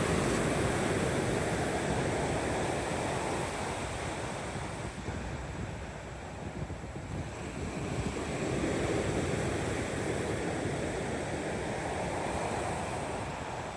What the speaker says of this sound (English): The wind's going round the north.